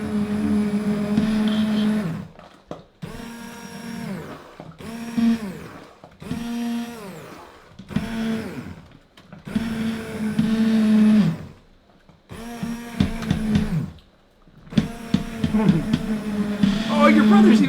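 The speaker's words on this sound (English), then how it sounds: "Okay, so now I'm going to grind it all up." Kitchen blender grinding brownie ingredients in short, loud bursts, roughly seven pulses separated by brief pauses, with the motor pitch rising and falling in each burst; a voice talks between and over the grinding.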